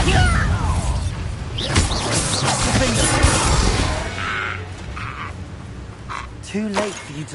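A Bombarda spell bursts in Hogwarts Legacy with a loud crashing, shattering blast and rumbling debris, followed by scattered clatter and a brief voice near the end.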